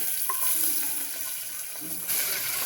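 Onions sizzle quietly in a hot pan over low heat while a utensil scrapes and stirs them now and then, a soft steady frying hiss throughout.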